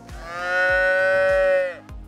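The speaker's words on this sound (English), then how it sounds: "Cows mooing at night." Cattle lowing at night, one long loud drawn-out moo rising and holding steady before fading, with softer low grunts or hoof thuds repeating beneath it, no talk.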